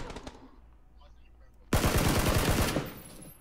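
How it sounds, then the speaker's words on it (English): Rapid machine-gun fire in a shooter video game, a loud sustained burst of dense shots that cuts in abruptly after a stretch of quieter background and brief talk. "Sounds like someone else was shooting at him."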